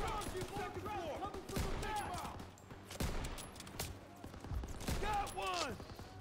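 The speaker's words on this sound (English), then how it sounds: "MG on the second floor." German MG machine gun fire in the WWII shooter game Call of Duty: WWII, heavy bursts of gunfire and explosive booms repeating through a loud battle, with shouted voices and other combat noise around it.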